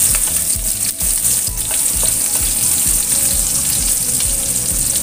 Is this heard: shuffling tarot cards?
no